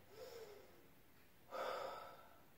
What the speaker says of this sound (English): take 2 deep cleansing breaths